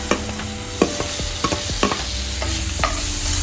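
Paneer bhurji with tomato frying in a pan while being stirred, a constant sizzle broken by repeated spatula taps and scrapes at a steady rhythm, close and clear.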